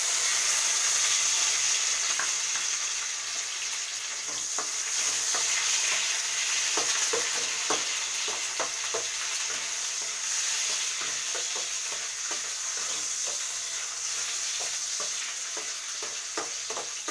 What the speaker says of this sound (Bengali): চাল ভাজা হয়ে গেছে, আমি এবার এগুলোকে তুলে নেব।